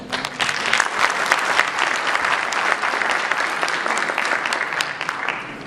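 An audience claps and cheers for a group of women honoured for digging up dinosaur fossils, steady dense applause filling the room for the whole stretch, loud and unbroken.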